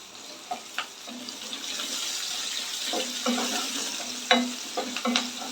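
A soft, steady sizzle of finely chopped onions sautéing in a pan for chana masala, with occasional scraping and stirring clicks, close by and with no talking.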